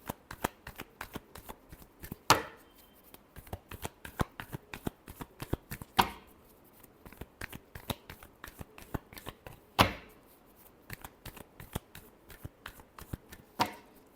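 Tarot cards are shuffled close by, a long run of quick, crisp riffling flutters with a few louder snaps scattered through, quiet overall and free of talk.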